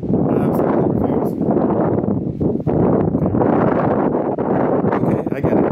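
Loud, constant wind buffeting the microphone on a cruise ship deck, a roaring gusty rush that stays strong throughout with no clear pauses.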